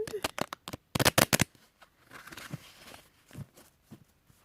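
Stiff tarot cards shuffled by hand, a quick burst of crisp riffling flutters up close at the start, then softer intermittent card taps and shuffles.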